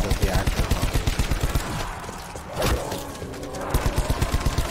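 Automatic gunfire cutting down zombies in Black Ops 4: loud, rapid, continuous bursts of shots close up, briefly easing mid-way before the fast rattling fire resumes.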